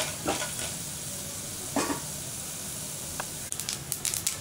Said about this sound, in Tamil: கடலைப்பருப்பு, உளுந்து பருப்பு இதை கொஞ்சமாக வறுத்துக்கலாம்.